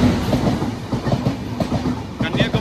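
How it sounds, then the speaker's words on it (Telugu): The Kanyakumari Pune Express passes on a single line, its wheels beating a loud, rhythmic clickety-clack close by as the carriages roll past. "ఇప్పుడు ఆ రూట్లో ఒక ట్రైన్ వస్తుంది"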